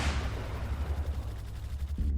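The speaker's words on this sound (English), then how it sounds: "a massive explosion rocked the station" A heavy explosion effect for a tabletop role-playing session about a space station booms loudly at the onset, then rumbles and crackles for about two seconds before cutting off.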